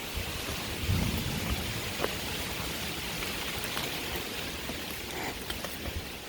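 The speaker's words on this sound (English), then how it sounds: "I guess it is raining. We're just in the tree cover, so it's not raining very hard right now." Light rain falls steadily on a hiking trail under tree cover on Mt. Greylock, Massachusetts, along the Appalachian Trail, a soft continuous patter with occasional nearer drips.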